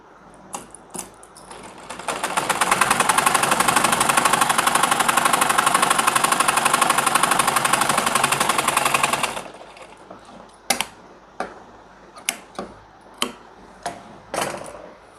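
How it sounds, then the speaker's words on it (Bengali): A sewing machine runs steadily for several seconds, stitching a pocket onto pajamas, with a close, even mechanical whir, followed by a few scattered clicks and knocks as the fabric is handled. "এখানে পাকা সেলাই করার জন্য এটাকে এইভাবে এইভাবে ধরে সেলাইটা করে নিব।"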